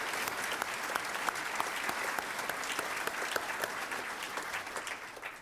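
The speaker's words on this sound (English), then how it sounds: "Let's give them a round of applause for putting that together." Steady applause from an audience at a celebration-of-life event, many hands clapping in a dense, even wash at moderate distance, tapering slightly at the end.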